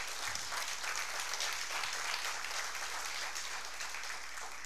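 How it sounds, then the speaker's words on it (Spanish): Church congregation applause during a sermon, a dense, steady clapping from a large room that stays even throughout, with a low hum running beneath it. "Denle un fuerte aplauso al Señor."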